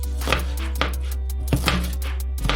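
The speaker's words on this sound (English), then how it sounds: "And with this onion, gotta be diced. Finely diced." A knife finely dices an onion on a cutting board, with steady close chops in an uneven rhythm, each strike a crisp knock against a constant low background hum.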